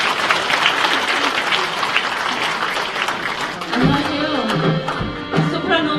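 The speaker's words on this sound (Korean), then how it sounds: "여러분 큰 박수로 청해 주시기 바랍니다" Audience applause fills a ceremony hall at a police veterans' association anniversary event at Sejong Center, steady dense clapping throughout, with orchestral tones and a voice emerging partway through.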